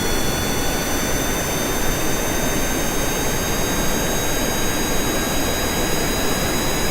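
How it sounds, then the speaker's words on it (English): A Kerbal Space Program aircraft's jet engine roars steadily at full power during takeoff from a rough runway, a dense unbroken whine with high tonal lines held throughout. "Let's see if we can take off with this crappy runway."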